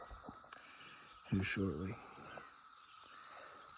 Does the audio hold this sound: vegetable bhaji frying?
no